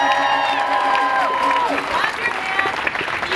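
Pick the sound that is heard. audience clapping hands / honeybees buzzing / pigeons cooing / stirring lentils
audience clapping hands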